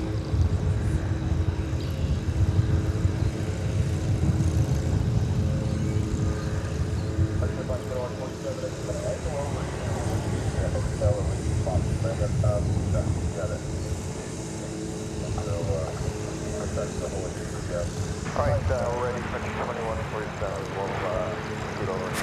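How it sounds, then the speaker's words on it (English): A Frontier Airlines jet bound for Denver takes off from DFW Airport, its engines giving a loud, sustained roar that holds steady throughout, with people talking over it. "Frontier flight with Champ the Bronco on a tail. It's going to Denver, flight 2147."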